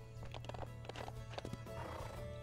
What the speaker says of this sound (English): See me leading my horse. Look at him, he's kind of hopping along.